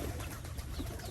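Pigeons coo softly in a village yard kept with ducks and chickens, a faint, low, repeated murmur heard close by against a quiet background.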